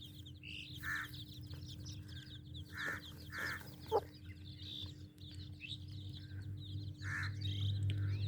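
Hens with young chicks cluck in short, spaced calls close by, while the chicks' high chirps run almost constantly over a low background hum.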